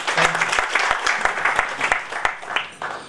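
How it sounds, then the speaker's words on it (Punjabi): An audience at a Punjabi kavi darbar poetry event in 2014 claps in loud, dense applause with a few sharp individual claps standing out, continuing steadily for the whole stretch. "ਇੱਕ ਵਾਰ ਜ਼ੋਰਦਾਰ ਤਾਲੀਆਂ ਲਾ ਦੇ।"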